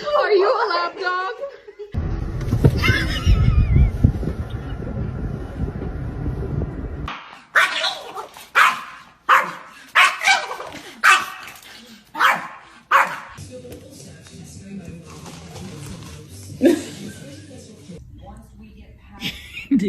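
A lap-sized dog barks and yips in short sharp bursts, close and loud, mixed with people talking and laughing nearby.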